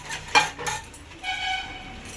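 A steel pot used for making tea being scrubbed at a kitchen sink, giving short scraping and clinking metal sounds in a few uneven bursts, fairly close, with no talk.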